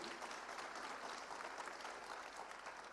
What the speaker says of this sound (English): We can clap louder than that, can't we?